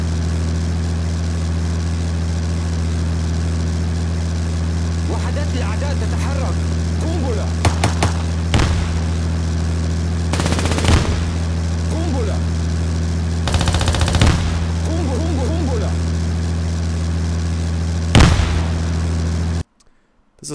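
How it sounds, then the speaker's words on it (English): A looping vehicle engine hums as a low, steady drone beneath a video game battle, with repeated bursts of machine-gun fire and explosions, before cutting off abruptly at the end. "the final example has a vehicle sound in it that's looping"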